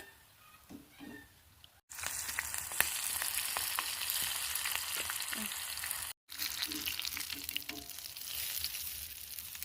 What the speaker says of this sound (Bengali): এটার সাথে খাওয়ার জন্য কাঁচা লঙ্কা ফ্রাই করলাম